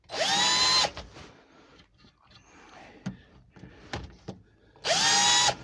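A hand drill bores a wooden pen blank for a Faith Hope and Love pen kit, with brass showing through. Two loud, whining bursts of drilling at the start and end, with quieter clicks and handling between.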